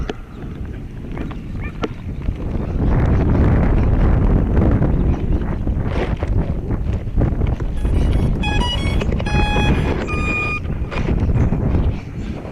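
Wind gusting outdoors during a test flight of a Syma X8 drone, loud rushing buffeting against the microphone that builds and stays heavy, with a few faint tonal beeps near the end.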